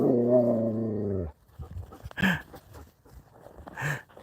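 A dog gives a low, drawn-out growl close by, then goes quiet, followed by a few faint whimpers and small noises.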